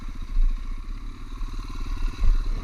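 Small-wheel Yamaha TTR 125 dirt bike launching, a close, rough low engine drone with clattering pulses that swells and revs up twice in quick surges.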